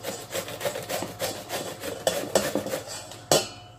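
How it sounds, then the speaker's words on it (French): A large courgette, skin on, grated on the coarse side of a kitchen grater: steady, rhythmic rasping strokes about three per second, close and fairly loud, ending with a sharper final scrape. "on va la râper comme ceci. On va la râper. Sur la partie grosse"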